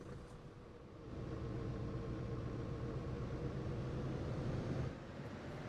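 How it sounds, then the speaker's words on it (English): A vehicle engine in a video game churns steadily with a low, dense rumble that swells after the first second and holds loud before easing off near the end, with no voices over it. "that churning of the engine"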